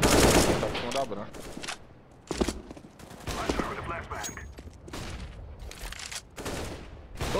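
Rapid bursts of automatic gunfire from a competitive online shooter match on the Gamers Club platform, loud and dense throughout with brief pauses, while a player talks over the shots.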